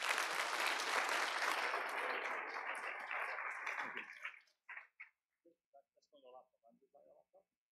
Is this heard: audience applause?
yes